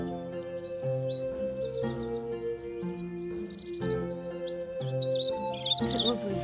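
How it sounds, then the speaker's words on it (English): Birds chirp and trill in bright, repeated bursts in a garden over a steady musical backing of sustained tones. "You can hear the birds singing"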